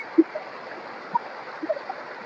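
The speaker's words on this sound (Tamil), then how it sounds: "எவ்வளோ பெரிய மலை, மலைக்கு நடுவில் இந்த வாட்டர் ஃபால்ஸ்" A waterfall between hills near Udupi in Karnataka gives off a steady, faint, distant rush of falling water with no voices.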